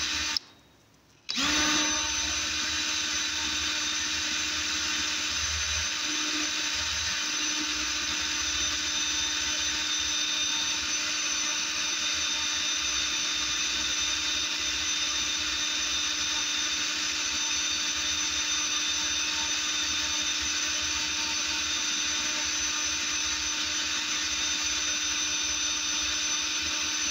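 A power drill whines steadily and close by for a long, unbroken stretch after a brief pause at the start, drilling out a broken bolt in a cylinder head.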